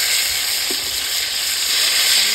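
Eggplant sizzling as it fries in a pan, a steady, loud, close hiss with faint stirring clicks underneath, running continuously without pause.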